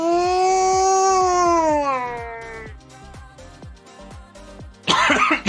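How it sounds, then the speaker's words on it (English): A single short cough bursts out near the end, loud and close, after sustained tonal game sounds and soft clicking. It happens during a Minecraft modpack session. "Cough."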